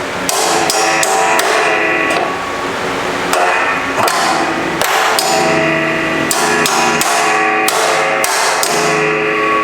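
Rapid, loud metallic banging of pliers used as a hammer while repairing a Craftsman riding mower, repeated strikes in irregular bursts with ringing overtones, close by and continuous throughout.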